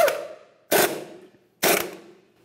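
A torque wrench tightening the crankshaft damper mounting bolt on a 2010-2013 Kia Forte Koup 2.4L, heard as three sharp, loud metallic clicks evenly spaced, each ringing briefly before fading.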